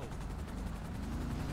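Gunfire aimed at cars in GTA Online, a dense, continuous barrage of rapid shots with low rumbling blasts and a steady mechanical drone underneath, close and loud throughout.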